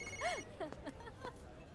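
A telephone rings faintly with warbling electronic tones that rise and fall, repeating a few times against quiet background noise.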